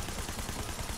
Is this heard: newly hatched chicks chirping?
no